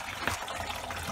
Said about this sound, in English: Look, and then we open the radiator cap. Let that water flow faster.